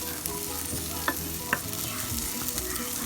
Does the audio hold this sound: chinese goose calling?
no